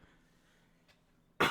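A single sharp cough from a man with a dry throat, loud and close, bursting out after a near-silent pause and a faint earlier throat sound, in a quiet indoor setting.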